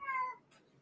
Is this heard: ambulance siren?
no